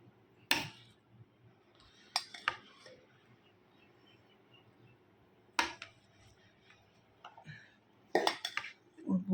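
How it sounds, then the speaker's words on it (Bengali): Dishes and cutlery clink as rice is served onto plates at a home meal, a handful of sharp, scattered clinks and knocks against a quiet room. "তো ভাতটা চট করে বেড়ে ফেলি।"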